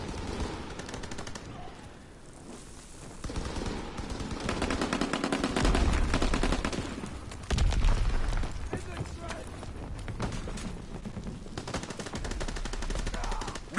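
Rapid automatic rifle fire in the Call of Duty WWII beta sounds as loud, sustained bursts with short pauses, mixed with other battle noise and voices talking over it.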